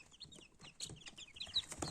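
Lakenfelder chicks peep softly in a scattered, overlapping series of thin high chirps, some rising and falling, with faint rustling beneath and no voices.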